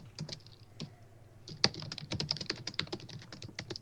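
Close, rapid clatter of keys on a computer keyboard, irregular bursts of typing with brief pauses, no talk over it.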